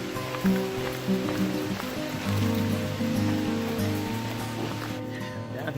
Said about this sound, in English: That's the creek you hear running.